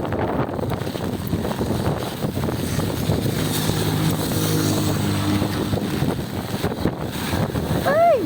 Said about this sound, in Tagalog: Murag kusog ang hangin.